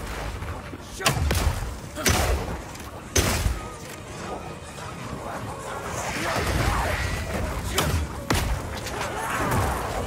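Oil grenades launched in Path of Exile 2, several heavy thumping impacts spaced a second or so apart over a busy layer of combat noise and splashing, fairly loud and close.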